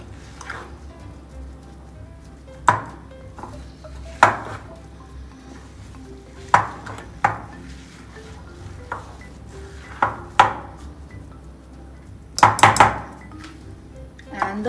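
A spoon stirs eggless oats and whole wheat chocolate chip cookie dough in a bowl, giving irregular soft scrapes and sharp knocks against the bowl, with quieter mixing noise between the hits.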